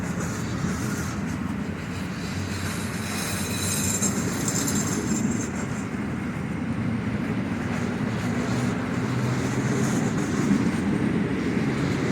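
An Intercity train passes through the station in Kołobrzeg, Poland, with a loud continuous rumble of wheels on rails and a rhythmic clatter over the joints that holds steady from start to end.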